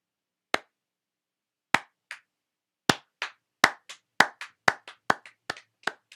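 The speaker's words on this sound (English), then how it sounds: "What are we now clapping for?" Sparse, sharp claps from a small group of sports-show listeners, starting as isolated single claps and building into a quicker, irregular run of separate hand strikes, close and fairly clear.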